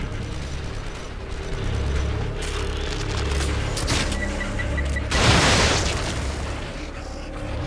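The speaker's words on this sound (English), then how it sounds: "They're shooting from above." Enemy gunfire raining down from above in The Evil Within, loud mechanical clanks and bursts of shots with a heavy blast partway through, over a low rumbling backdrop.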